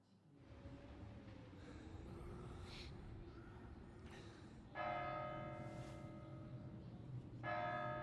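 Church bell in Kingdom Come: Deliverance II, two loud resonant strikes with long ringing tails over a steady low ambient hum, no talking.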